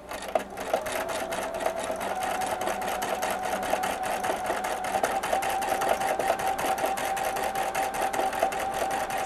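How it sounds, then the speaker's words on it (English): A sewing machine stitches a large decorative zigzag with Star Thread on a beach bag, running with a steady, continuous mechanical whir and rapid needle clatter, close and unbroken, with no talking. "I'm going to do some overstitching to decorate it."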